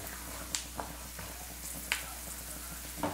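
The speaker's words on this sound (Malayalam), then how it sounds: "അപ്പൊ എണ്ണയിലിട്ടിട്ട് കപ്പലണ്ടി വറുത്തെടുക്കാന്ന് വെച്ചാൽ വളരെ എളുപ്പമാണ്." Peanuts fry in hot oil with a soft steady sizzle, punctuated by a few sharp little pops and crackles, close and quiet with no talking.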